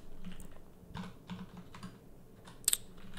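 A computer keyboard is typed on during a coding session, giving scattered soft keystrokes in short bursts. A faint sharper pair of clicks comes near the end, with no voices.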